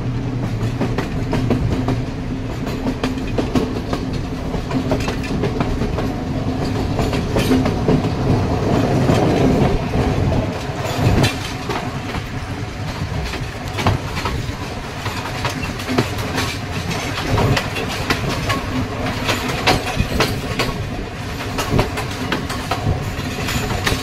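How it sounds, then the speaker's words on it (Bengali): A train on a Sri Lankan railway rocks and jolts along, with a steady, loud rumble and rattle of the carriage and wheels throughout, heard from inside the car with no talk. "ট্রেনটা বেশ দুলছে"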